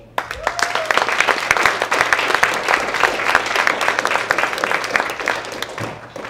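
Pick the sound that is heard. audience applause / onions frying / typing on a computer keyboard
audience applause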